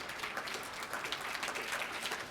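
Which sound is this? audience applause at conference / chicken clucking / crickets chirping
audience applause at conference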